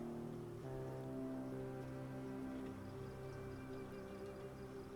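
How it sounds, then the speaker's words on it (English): Steady rain in Project Zomboid hisses throughout over a low, sustained tonal drone, with no talking; the downpour stays even and continuous for the whole stretch. "Let that rain come down."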